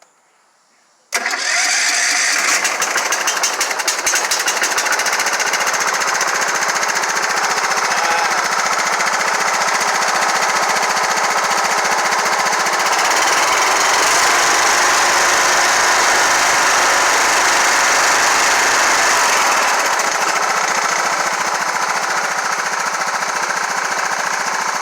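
A Cub Cadet LT1042 lawn tractor engine, freshly carbureted and on choke, cranks and catches after a short silence, then runs loud and steady at close range with a rough, rattling idle for the remainder.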